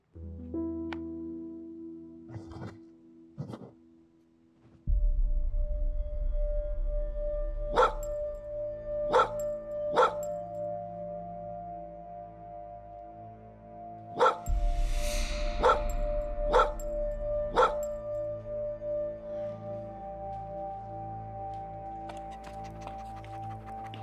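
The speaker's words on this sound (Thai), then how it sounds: "มาเห่าอะไรตรงนี้ ออกไปเลยนะ" A dog barks at a home in scattered sharp bursts, a few early yips then clusters of loud barks, over a steady low hum with long gaps between.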